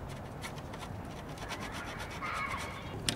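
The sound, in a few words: sanding around damaged area of a surfboard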